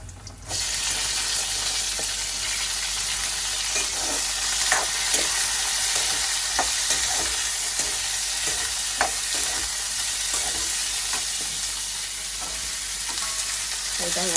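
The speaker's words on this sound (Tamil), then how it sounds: "இது வந்து நல்லா எண்ணெயில் வதங்கி வரட்டும்" Vegetables, ridge gourd with garlic in a home kitchen, sizzle and fry steadily in hot oil, a loud continuous crackling hiss with occasional stirring clicks throughout.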